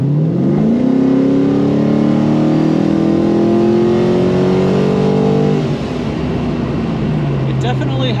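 A 1981 Malibu G-body with an LS V8 swap revs up hard from the inside, its engine tone climbing steadily for several seconds and then dropping back to a lower drone.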